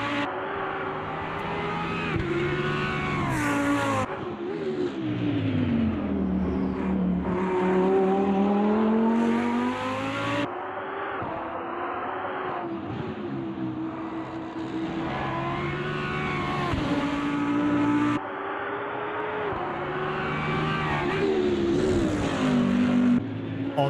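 A Lamborghini race car in the Automobilista 2 racing game screams through rising and falling revs, with sharp gear changes and brief drops, a loud continuous engine note with no talk over it.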